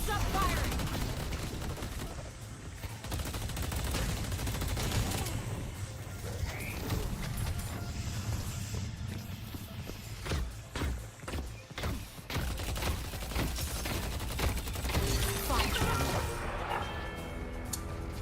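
Rapid gunfire and impact crashes from a Deadlock team fight ring out loud and dense, with bursts of shots stacking over a constant rumble and scattered sharp hits throughout.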